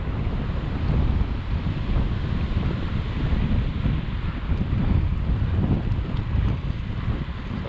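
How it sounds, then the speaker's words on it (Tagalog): Strong wind buffets the microphone during a 300 km challenge bike ride near Tommy Thompson Park, a loud, constant rushing roar that swells and eases slightly over a few seconds, with no voices. "So malakas ang hangin."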